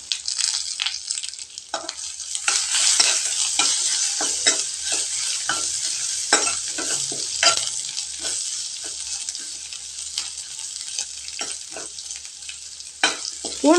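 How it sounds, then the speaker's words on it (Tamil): Garlic and dried red chillies fry in hot oil for a drumstick dal poriyal, a steady close sizzle broken by frequent scraping stirs of a spoon in the pan, with no talking. "இப்போ பூண்டும் வரமிளகாயும் நல்லா செவக்கட்டுங்க."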